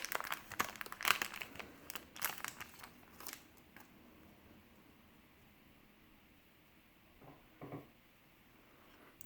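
Crinkly plastic wrapper of a Star Wars CCG booster pack (Reflections set) being torn open and crumpled, loud close crackling bursts over the first few seconds, then quieter handling with a couple of brief rustles.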